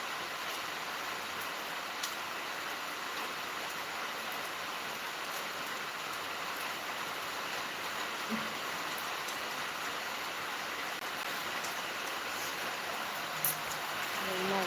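Rain drums on a metal roof in a steady, even patter that fills the whole stretch without a break.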